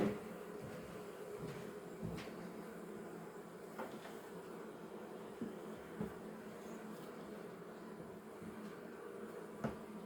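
Honey bees buzz in an opened, slightly agitated hive during a spring colony inspection: a soft, continuous drone with faint scattered clicks and knocks of frames and equipment, no voices.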